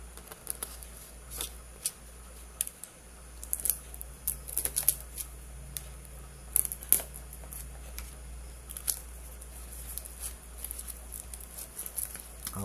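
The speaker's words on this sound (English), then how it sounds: "let's cut the plastic." A rusty cutter blade slices through the plastic wrapping of a Cherry Mobile Apollo phone, giving scattered crinkles, snips and crackling rustles close by, irregular across the stretch, with no talk.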